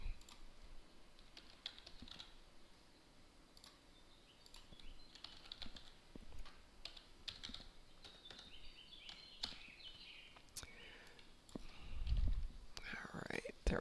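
Computer keyboard typing comes in irregular bursts of light clacks, close and fairly quiet, with soft whispered speech and a louder thump near the end.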